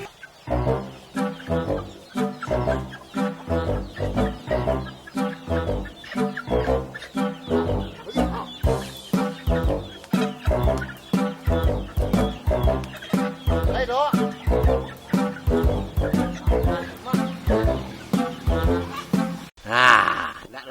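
Chickens at a cockfighting match cluck loudly and continuously in a fast rhythmic pattern, close up, with a brief louder flurry near the end.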